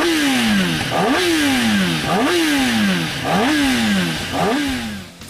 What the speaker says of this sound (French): Prise de régime sidérante pour un moteur encore plus méchant